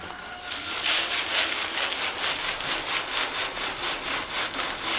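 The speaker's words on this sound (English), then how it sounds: "We're going to get all of our sand and clay through this screen" Sand and clay shaken and rubbed through a screen, giving a steady rhythmic gritty scraping that swells and fades in regular strokes, close and fairly loud, with no talking.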